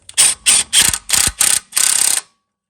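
A ratchet snugs down axle bolts on a 2006–2011 Honda Civic during passenger-side axle replacement: six loud, close bursts of rapid clicking, the last one longest, followed by silence.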